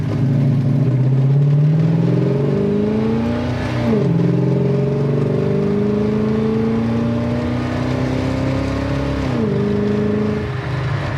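1969 Plymouth Satellite V8 on a test drive, engine loud from inside the car, revving up through gears with pitch rising and dropping at two shifts, steady drone between, without talk.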